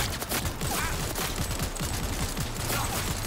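Rapid, continuous gunfire from a firefight in Cyberpunk 2077 Phantom Liberty, a dense rattling volley of closely spaced shots that fills the whole stretch at steady loudness.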